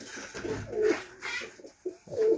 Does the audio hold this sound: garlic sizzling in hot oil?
no